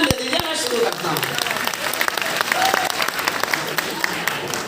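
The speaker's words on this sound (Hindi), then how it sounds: "एक बार अच्छी तालियां बजाकर मन दे दीजिए" Audience applause at a university alumni gathering, a dense burst of clapping that starts loud and settles into sustained, scattered claps, with a voice speaking over it.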